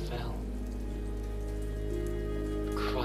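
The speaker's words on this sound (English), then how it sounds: "But then the rain began to fall." Steady rain falls in the video game Ender Lilies, a dense continuous hiss under a low sustained musical drone, with faint voice-like sounds at the start and end.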